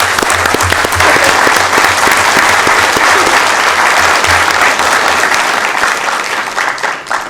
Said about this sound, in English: Everyone, one more big round of applause, please.